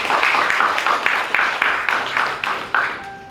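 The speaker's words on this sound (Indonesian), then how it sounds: "Beri tepuk tangan." Wedding guests clap together at a church ceremony, a dense, steady burst of applause lasting a few seconds with sharp individual claps standing out, fading at the end with a faint tone beneath.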